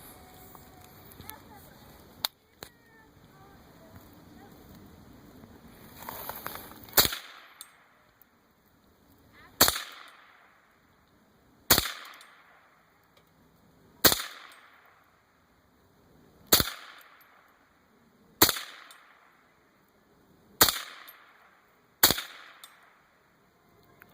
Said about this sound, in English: So just to show the action of the hostage man here, we're going to use the rifle.